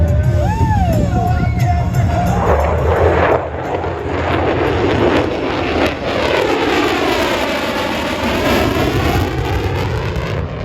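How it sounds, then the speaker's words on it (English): A Lockheed Martin Navy F-35C Lightning II fighter jet roars past overhead, its engine noise loud and sweeping in pitch as it passes, with a crowd murmuring underneath. "From the right, the Lockheed Martin Navy F-35C Lightning II."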